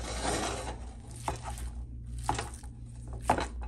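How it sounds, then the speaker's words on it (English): Sausage is smashed and broken up in a pan into ground meat, with three distinct scraping knocks of a utensil over a constant low hum and soft sizzle. "I'm just gonna smash it up and make this into some ground sausage"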